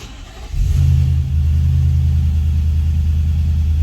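A Nissan Patrol Y62 with an aftermarket exhaust cold-starts: a brief crank, then the engine catches and settles into a deep, steady, loud idle rumble, close by and with no talk.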